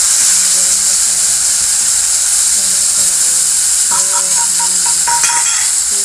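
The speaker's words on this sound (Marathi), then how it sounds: "हे पण सर्व फोडणीमध्ये फ्राय करून घ्यायचं." Red chilli powder and garam masala fry in a hot oil tempering with a loud, steady hiss and sizzle, while a voice talks intermittently over it.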